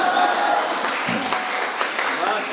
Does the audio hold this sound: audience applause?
yes